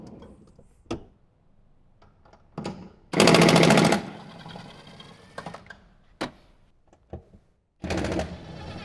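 Power tool removing the rear seat bolts on a Jeep Wrangler JK: short, sharp bursts of rapid impact rattling, one longer run and several brief hits, loud against a quiet garage.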